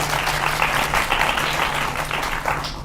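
An audience at a Hindi political debate breaks into loud, continuous applause, a dense and sustained patter of many hands with a low steady hum beneath it.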